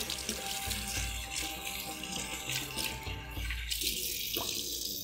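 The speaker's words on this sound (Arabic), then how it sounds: "انا هشطف ايدي" Hands are rinsed under a running kitchen tap during cooking, a steady rushing splash of water with shifting spatter as the hands move through the stream, loud and close with no talk.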